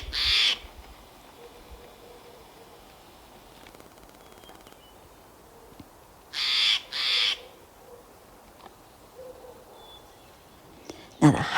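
Harsh, raspy Steller's jay calls ring out in short bursts, one at the start, a paired burst midway and another at the end, loud against a quiet outdoor background.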